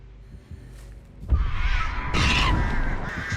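The Artist's crows cawing in the video game Dead by Daylight, harsh close caws and fluttering that swell after a quiet start and stay loud to the end.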